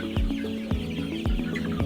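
Free-range village chickens cluck nearby in short, repeated bursts, several birds overlapping in an uneven rhythm, clear and fairly loud with no speech.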